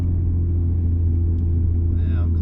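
A Nissan Stagea 260 RS with an RB26DETT engine rumbles steadily at close range with a deep, even idle drone, and a faint higher whine shifts near the end.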